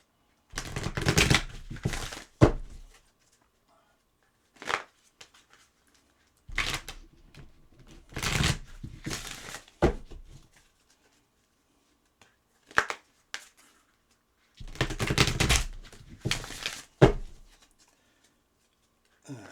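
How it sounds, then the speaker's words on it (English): Bursts of playing cards being riffled and bridged, several separate shuffles with short pauses between, close and crisp with no talking. "Let's get one more shuffle."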